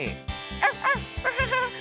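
A cartoon puppy yips and barks in short high bursts, several quick cries in a row, close and clear over a bed of background music.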